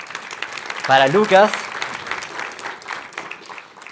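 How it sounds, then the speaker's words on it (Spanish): Conference audience applauding a presenter, a steady wash of clapping throughout with a voice briefly speaking over it. "Así es que un aplauso, por favor"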